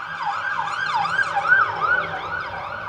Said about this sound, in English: there is a siren in the background